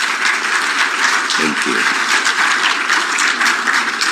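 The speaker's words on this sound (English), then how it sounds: "Shall we please give His Majesty a round of applause, please?" Audience applause at a formal ceremony honoring a king, steady dense clapping filling the whole stretch while a voice briefly speaks over it.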